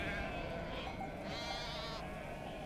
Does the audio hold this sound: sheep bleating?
yes